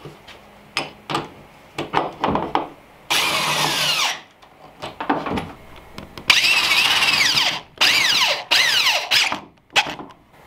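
Power drill driving screws through wood into the metal frame of an enclosed trailer, several loud whining bursts of varying length with short clicks and knocks between, close and without speech.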